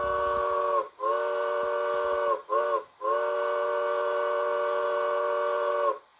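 A Bachmann HO John Bull model train with a Soundtraxx Econami sound decoder sounds a grade crossing whistle signal: two long blasts, a short toot, then a final long blast, loud and clear.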